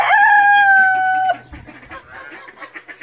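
A farm rooster crows once, loud and close, holding a long, bright, strained note for over a second before cutting off into quieter clucking and faint background chatter.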